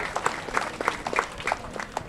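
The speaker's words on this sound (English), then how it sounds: "Please give them a round of applause." Applause from an audience at the opening ceremony of a national health insurance scheme, a short burst of moderately loud, sparse clapping with distinct individual claps and no talk.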